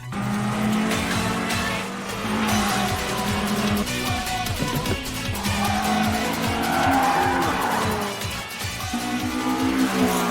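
A tuned Toyota AE86 with an upgraded engine screams off the line at a race start, loud and close, engine revving hard with tire squeal and skidding over rising and shifting gear tones.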